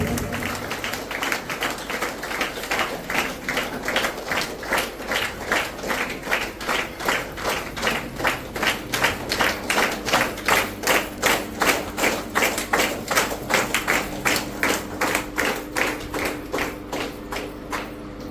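An audience at a senior trainers' conference claps to welcome guests, a sustained round of applause that settles into strong rhythmic unison clapping, loud and steady for the whole stretch.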